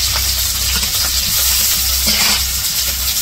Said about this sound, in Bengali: তো রান্না করার জন্য কড়াইয়ে তেল দিয়ে দিছে। তো এই পেঁয়াজটা টমেটো দিয়ে দিল।